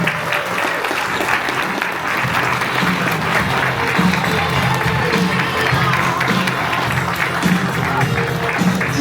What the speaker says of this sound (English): A round of applause and Sellies.